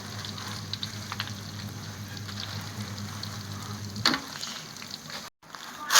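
Dried chillies fry in hot oil with a steady, close crackling sizzle. A sharp clatter cuts in near the end.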